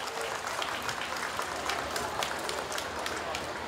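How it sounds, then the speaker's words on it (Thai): Steady applause from a crowd at a National Children's Day event in Thailand, dense continuous clapping throughout at moderate volume. "ขอเสียงปรบมือด้วยครับ"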